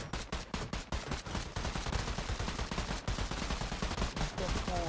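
Rapid gunfire from a video game fills the whole stretch, dense bursts of automatic shots with sharp individual cracks at the start, steady and loud throughout.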